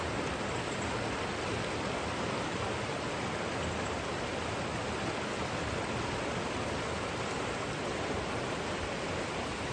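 River water rushing steadily through the wooded Teign Gorge on Dartmoor in autumn, a dense, even broadband roar that is close and constant, with no voices.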